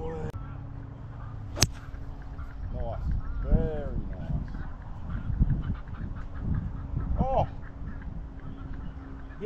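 A duck on a golf course gives a few short, nasal quacks at mid distance over steady outdoor background, while people talk nearby and a sharp club strike sounds once.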